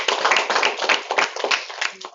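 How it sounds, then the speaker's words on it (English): An audience claps for a newly promoted silver director at a sales training session, a brief burst of scattered, uneven hand claps close by. "We can give him a round of applause for that, right?"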